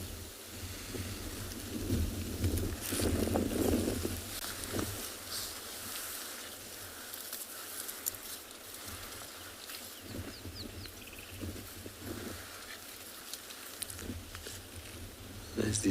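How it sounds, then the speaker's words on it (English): Strong morning gusts sweep across open ground on a sunrise safari, a soft, rushing roar that surges and eases around a low rumble, with faint bird calls and no talk. "I'm going to keep quiet for a little bit so you guys can just listen to the wind blowing."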